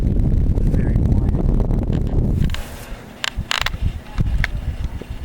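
A vintage Wizard Deluxe 12-inch box fan runs on low speed, a soft steady whirring hum with faint rattles, partly covered early on by louder rumbling and followed by sparse clicks and light knocks.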